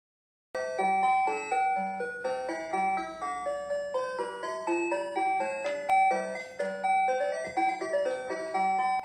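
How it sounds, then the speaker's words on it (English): An ice cream van's chiming jingle plays a bright, tinkling melody close by, a steady sequence of bell-like notes that starts abruptly and runs without pause. "The jingle of the ice cream van, announcing its arrival onto your street, is a rather special part of their appeal."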